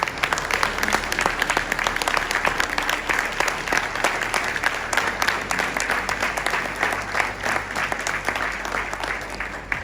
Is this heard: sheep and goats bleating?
no